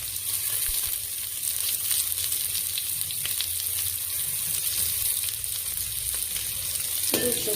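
Chopped onion with spices frying in a pan for tomato rice, a steady dense sizzle hissing continuously throughout with faint stirring scrapes underneath.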